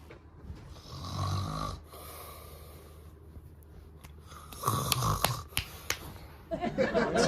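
A man snoring loudly in bed at night, rough rattling breaths in uneven bursts with snorts, close up, while voices and rustling break in toward the end.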